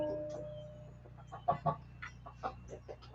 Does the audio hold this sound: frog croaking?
no